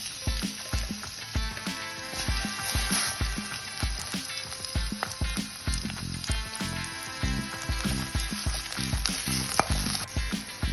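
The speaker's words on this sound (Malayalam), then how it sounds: "ഇനി അതിലേക്ക് നമുക്ക് അരിഞ്ഞു വെച്ചിരിക്കുന്ന ചുവന്നുള്ളിയും കറിവേപ്പിലയും കൂടി നമുക്ക് വറുത്തെടുക്കാം." Chopped shallots and curry leaves sizzle and crackle in hot oil, with steady frying hiss and frequent sharp pops, close up and without talk.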